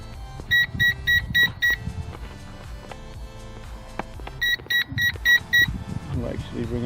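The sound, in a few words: Eachine E520S drone low-battery warning beep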